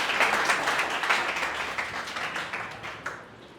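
An audience at an English group discussion claps briefly, a moderate, steady patter of hands that tapers off toward the end, with no talking.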